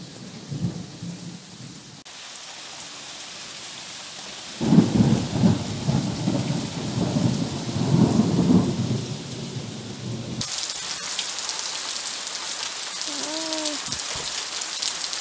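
Heavy rain pours down outdoors on a stormy morning, with deep rumbles of thunder rolling through the middle and a steady hiss of downpour, fairly loud with no voices.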